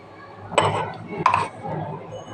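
Clinking of a utensil against a pot or dish as a cooked mixture is poured out, two sharp metallic knocks about a second apart, close and moderately loud.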